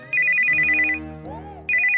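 A mobile phone plays a loud electronic ringtone, a bright repeating melodic trill that breaks into a short tune and then resumes, close and clear with no talking over it.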